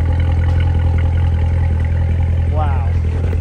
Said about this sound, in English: And listen to the exhaust.